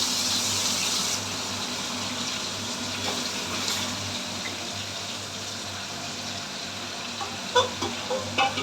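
Chicken meat frying in a pan for a Bengali red chicken curry, a steady dense sizzle running throughout with occasional stirring scrapes and clinks toward the end; no one talks.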